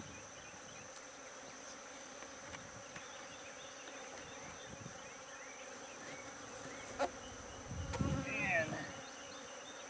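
Honey bees buzz steadily around an open hive during an inspection, a soft continuous drone with a few louder passes close by and a brief spoken word near the end.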